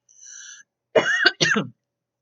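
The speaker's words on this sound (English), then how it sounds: "Cigarette cough." A short tonal throat sound followed by two harsh, close smoker's coughs in quick succession, then silence.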